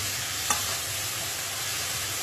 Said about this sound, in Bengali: আলু ভাজি করতেছি।